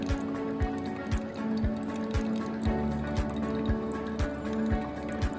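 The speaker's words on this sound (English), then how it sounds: "Pour in the small circular motion, repeating in the center like this." Hot water is poured in small circles over hand-drip coffee, giving a soft, steady trickle with regular drips and faint bubbling, close and quiet with no talking.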